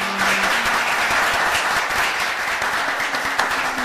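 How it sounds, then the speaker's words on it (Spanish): Warm audience applause at an evening presentation, dense and continuous clapping throughout, loud and close with no talking over it. "Para ello pido un caluroso aplauso."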